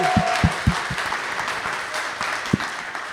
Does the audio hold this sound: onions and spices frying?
no